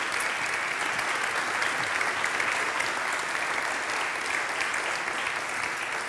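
A church congregation applauding after the carol Hark the Herald Angels Sing at a Christmas carol service, a dense, even round of clapping that carries on steadily for several seconds with no voices over it.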